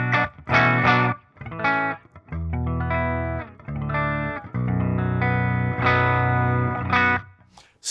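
An electric guitar fitted with a Fishman Fluence active pickup, its voice switch engaged, plays a distorted riff of chugging palm-muted notes and ringing chords with effects, loud and close, with no talking.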